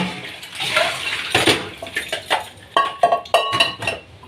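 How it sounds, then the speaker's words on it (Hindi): Dirty dishes, pots and utensils are washed by hand, with metal pans and cutlery clanking and clinking in an irregular rhythm over running, splashing water, close and fairly loud. "ये वाले झूठे वाले बर्तन साफ़ कर लेती हूँ मैं पहले"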